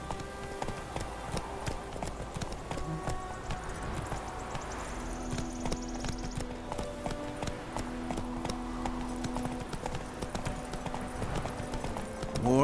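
Roach, the horse in The Witcher 3, gallops with steady rhythmic hoof clops that stay clear and moderately close throughout, while a faint game voice speaks in the background.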